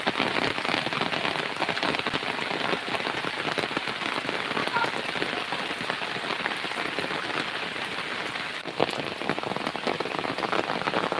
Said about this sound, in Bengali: এত বৃষ্টি হচ্ছে প্রচুর বৃষ্টি হচ্ছে